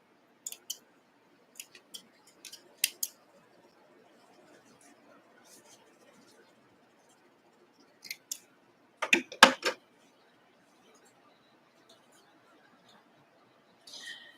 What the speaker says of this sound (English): And then snips.